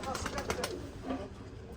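Mardin tumbler pigeons coo softly in a loft, with low, rolling calls mixed under someone speaking nearby.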